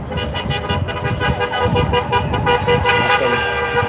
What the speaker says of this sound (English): Got some horn honkers over here.